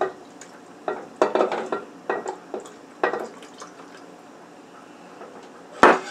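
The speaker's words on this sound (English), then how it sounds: "We want to stir it in good." Spoon stirring milk into a thickening béchamel cheese sauce in a pan for macaroni, giving scraping, clinking strokes in short irregular bursts with quieter gaps, close and alone, then one sharp clank near the end.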